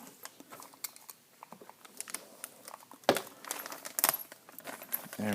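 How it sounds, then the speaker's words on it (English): Plastic packaging around a Tekno Big Bone center driveshaft for a Traxxas Slash 4x4 being sliced open with a knife: quiet crinkling and scattered clicks, then a few sharper crackling tears near the end, close and alone. "I'll try and grab my handy knife here to cut open the plastic."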